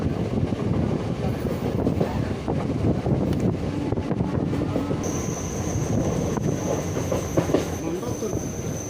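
A train rumbles steadily along the rails near Munroe Island in Kerala, with continuous rattling and clatter, wind buffeting the microphone, and a thin high squeal entering partway through.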